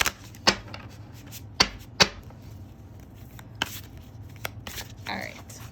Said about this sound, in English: let me just do another nice, good, clear shuffle